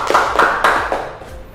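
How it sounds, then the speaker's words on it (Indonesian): Classroom applause from students after a teacher's request, a short burst of several hand claps with fairly steady rhythm, moderately loud and close, fading slightly toward the end. "Tepuk tangan sekali lagi."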